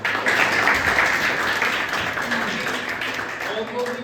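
An audience claps at a district-level youth village council competition at a government senior secondary school, a continuous crowd patter running the whole stretch with a voice talking over it.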